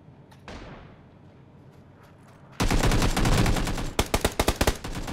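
M24 sniper rifle gunshots in PUBG. One sharp shot rings out with a long echoing tail, then dense gunfire follows, ending in a quick series of loud cracks.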